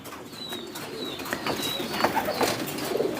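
A pigeon of the kohyap line, bred from a Janoko-line trilap parent, coos softly at close range in a few low murmuring bursts over steady background noise.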